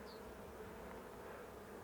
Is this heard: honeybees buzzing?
yes